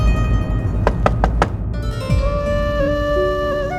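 Four sharp knocks rap on a wooden door in quick succession, loud and close, then fall silent as soft background music continues.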